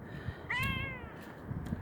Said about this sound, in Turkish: Ne kadar güzel bir kediymiş.